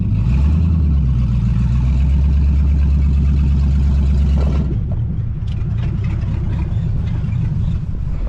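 A 1983 Mercury Capri RS, abandoned for 20 years, runs with a loud, low engine rumble and a shifting drone, then abruptly drops off as though stalling, leaving quieter rough sputters.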